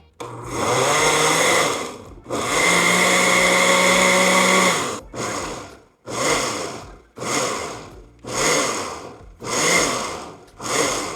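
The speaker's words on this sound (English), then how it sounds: "Pulse until combined, stopping to scrape down the sides of the blender with a spatula" A kitchen blender runs in pulses on Brazilian cheese bread batter: two long whirring bursts, then a series of shorter pulses with brief pauses between them, loud and close.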